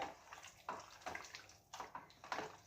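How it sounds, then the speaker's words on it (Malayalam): Water is poured in short splashing bursts into a chicken 65 marinade, several quiet separate pours with no talking. "നമുക്കൊരു സ്വല്പം വെള്ളം ചേർക്കാം"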